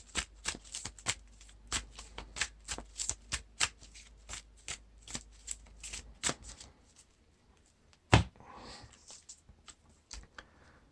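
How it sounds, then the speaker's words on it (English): Cards for the Lord of the Rings card game are shuffled in a rapid series of crisp riffling taps, close and fairly quiet, ending with a sharp snap and a brief rustle. "Now we shuffle the boons and burdens into the encounter deck."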